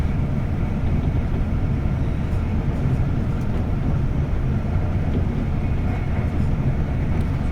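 Avanti West Coast train unit 805001 passes on a Chester to London Euston service, producing a steady, loud, broad rumble that holds without a break for the whole stretch.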